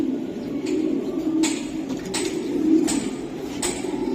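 Cooing from racing club pigeons rolls on in low, continuous murmurs nearby, broken by a few sharp taps or clicks.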